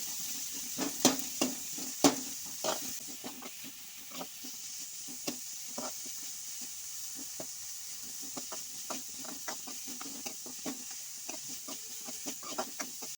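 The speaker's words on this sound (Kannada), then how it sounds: "ಈರುಳ್ಳಿ ಎಲ್ಲ ಹಾಕಿದೆ ಆಮೇಲೆ ಕಾಯಿ ಮೆಣಸು ಒಂದು ನಾಲ್ಕು ಸರಿ ಫ್ರೈ ಆಗಿ" Onions and green chillies frying in a pan for sprouted horse gram palya, giving a steady faint sizzle broken by frequent small crackles and pops throughout, with no talking.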